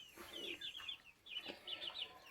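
A brooding hen, penned with her chicks, clucks softly and up close in short repeated bursts with brief pauses between them, in a quiet setting.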